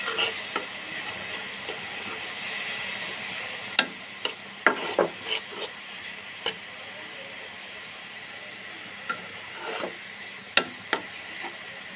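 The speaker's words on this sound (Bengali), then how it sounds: "ব্লেন্ডার করে এখন তেলের মাঝে আমি একটু ভেজে নিচ্ছি।" Blended onion and green chili fry in hot oil with a continuous close sizzle, broken by intermittent sharp clicks and scrapes of a spoon stirring against the pan, with no voices.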